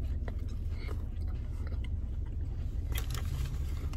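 Biting and chewing a chicken sandwich with mayonnaise, crunchy bites and mouth sounds close up over a steady low background rumble, with a few sharper crackles near the end.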